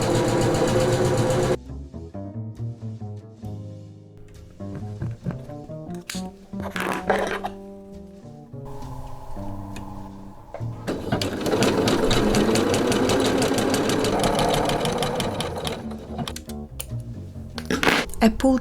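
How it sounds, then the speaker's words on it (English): A sewing machine stitches lace with a 3-step zigzag stitch for a lace bodysuit, running in short stop-start bursts and then one longer steady whirring run, close, with soft music behind. "I will attach this with a 3-step zigzag stitch, and I will stop here close to the seam allowance."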